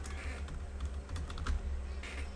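Fast, steady keystrokes rattle on a computer keyboard, close and fairly loud, set over a low background hum and free of any speech.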